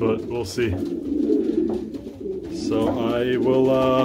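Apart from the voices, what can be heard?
breeding pair birds calling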